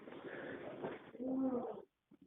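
A cat gives a close, drawn-out meow following a stretch of soft rustling and low purring sounds, then a brief faint chirp at the end.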